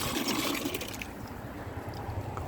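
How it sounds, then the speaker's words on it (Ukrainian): Water runs steadily from an old street water column, a continuous splashing trickle that stays close and fairly even throughout, with no voices. "не пітєва вода, але вода, водичка є"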